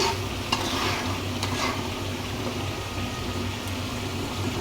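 Meat sautéing in oil with ground cumin, turmeric, chili, ginger and garlic, a steady close sizzle with scraping stirs of a spoon against the pan, no voices.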